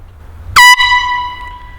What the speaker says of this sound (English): One thing that has proven to be loud enough to scare off bears are air horns.